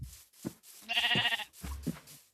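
A Minecraft sheep bleats in short repeated calls, a louder drawn-out bleat in the middle, close and clear with no talk.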